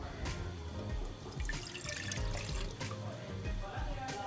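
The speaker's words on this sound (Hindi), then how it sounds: "1 कप पानी ऐड कर दें।" A cup of water is poured into a cooking pot for noodles, giving a continuous splashing stream close by.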